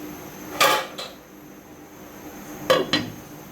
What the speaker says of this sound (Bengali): মশলাটা একবার নেড়ে ছেড়ে দিতেছি।